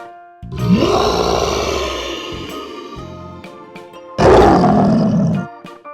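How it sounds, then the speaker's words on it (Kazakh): A cartoon tiger in a children's animated show gives two deep, loud roars close by, a long rumbling one followed by a shorter burst after a brief pause. "Жолбарыс ырылдайды."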